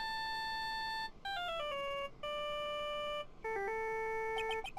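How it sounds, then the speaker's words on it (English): A cell phone ringtone from the game Phoenix Wright: Ace Attorney Justice For All, bright electronic melody repeating in short phrases with brief gaps, loud and clear with no talk over it. "All of a sudden, the phone began to ring."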